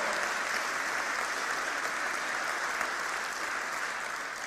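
Steady, dense applause from a church congregation during a sermon, a continuous wash of many hands clapping at even loudness with no pauses.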